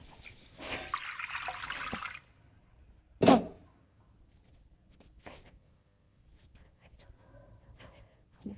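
Water poured into a ginger powder mixture in a cooking pot makes a brief, splashy rush lasting a second or two, followed by a sharp clank and quieter kitchen handling noises.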